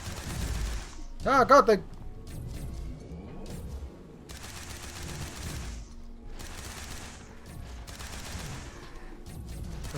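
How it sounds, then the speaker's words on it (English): Automatic plasma rifle in the video game Beacon, firing a quick burst of rapid shots followed by intermittent bursts, with a voice muttering in the clip. "Fires plasma rounds, automatic, but it's got low accuracy."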